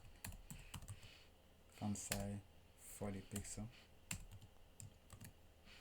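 Someone types on a computer keyboard in scattered bursts of sharp, close clicks and key taps while talking between the keystrokes.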